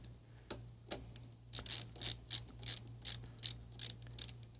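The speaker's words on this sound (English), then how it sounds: "Okay, so now I'm going to lock in the back screws." Back screws being tightened on an Aleratec Auto Publisher LS CD changer, a quiet, close series of about ten rhythmic ratcheting clicks over a low hum.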